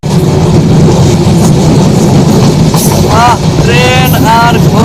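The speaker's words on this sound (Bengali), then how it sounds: "আস্তে আস্তে করে আমরা সেতু পার হচ্ছি" The Rangpur Express rolls slowly across a bridge, a loud continuous rumble and rattle of the train from inside, with a few high squealing tones near the end and no speech.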